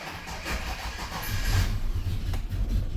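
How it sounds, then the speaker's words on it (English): A Ford Ranger engine turns over and catches roughly, a low uneven rumble that stumbles rather than settling into a smooth idle. The fuel pressure is low, and the sound is fairly close with no talk over it. "Let's go ahead and start our engine."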